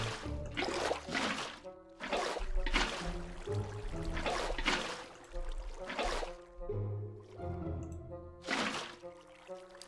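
Water filling up in Minecraft Bedrock, a series of soft pouring and trickling splashes in rhythmic bursts, fairly quiet throughout.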